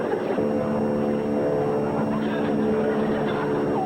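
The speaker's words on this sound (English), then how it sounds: "That sounds like my plane." A steady airplane propeller-engine drone hums throughout, a constant tonal buzz at moderate distance with faint voices mixed in.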